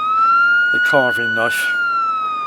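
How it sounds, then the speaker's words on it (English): A steady ambulance siren tone runs throughout, holding a constant pitch, while someone speaks briefly over it near the middle. "And that's the ambulance just gone."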